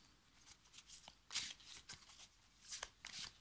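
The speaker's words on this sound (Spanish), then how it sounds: "Vamos a barajar un poco las cartas para limpiarlas." Tarot cards being shuffled by hand, faint and close, with a series of short riffling bursts and soft slaps spaced unevenly over a few seconds in a quiet room.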